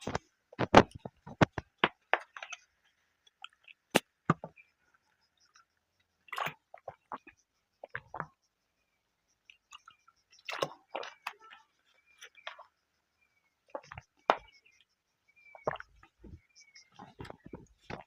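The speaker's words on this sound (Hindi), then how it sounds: "यहाँ से एक मिनट पानी पी लेता हूँ" Someone sips and swallows water close to the microphone in a quiet room, a scattered run of wet gulps and mouth clicks separated by silences.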